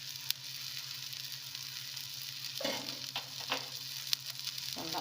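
Adai batter sizzling faintly in oil on a pan over medium flame, a low steady hiss with a few soft crackles and a brief stirring or scraping sound near the middle.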